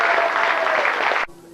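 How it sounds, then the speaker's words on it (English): Audience applause at a 75th anniversary celebration, a dense burst of many hands clapping that holds steady, then cuts off abruptly near the end, leaving a faint background hum. "we all deserve a round of applause for that"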